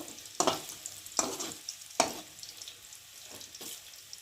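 Fried potatoes are stirred and pushed aside in a pan, giving three or four distinct scraping sweeps over a faint low sizzle.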